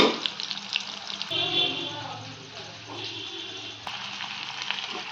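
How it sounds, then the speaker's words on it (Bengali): Onion and carrot frying in a pan for veg biryani, a steady soft sizzle running throughout with light stirring scrapes, with a voice talking over it at times. "এই যে পেঁয়াজ আর গাজর ভাজা, ভেজ বিরিয়ানি করব বন্ধুরা।"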